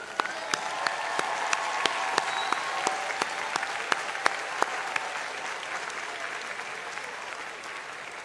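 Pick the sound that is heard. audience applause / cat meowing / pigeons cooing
audience applause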